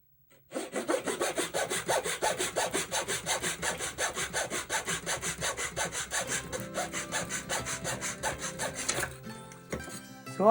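Hand saw cutting wood for a quarter-scale miniature stone house build: steady back-and-forth strokes in an even rhythm for about nine seconds, close and clear, then the sawing stops.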